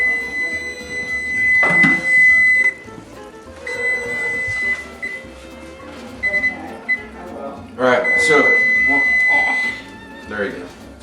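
A kitchen timer beeps in a home kitchen during pasta e broccoli cooking, steady repeated tones in short bursts that stop and resume, with people talking over and between them.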